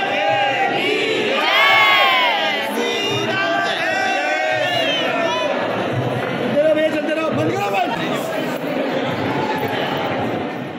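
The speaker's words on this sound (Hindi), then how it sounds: "यहाँ पे भीड़ तो बहुत ज़्यादा थी और भक्तों में तो बहुत ही ज़्यादा जोश" A large, excited crowd of devotees packs a temple in Vrindavan, with loud overlapping shouting, cheering and chanting voices that swell and stay close throughout.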